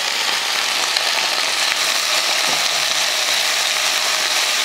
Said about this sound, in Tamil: அந்த எண்ணெயில் போட்டு இந்த புதினாவை கொஞ்சமாக வதக்கிடலாம்.